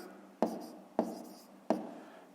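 Pen writing numbers on paper while working through a math problem: three short, distinct scratches with quiet pauses between them, close and soft.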